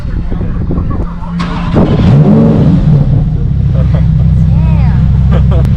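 A Lamborghini Huracan STO starts with a sharp crank and a loud engine catch, then settles into a deep, rumbling idle close by, while people talk over it.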